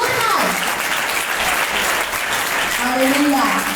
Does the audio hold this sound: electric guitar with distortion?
no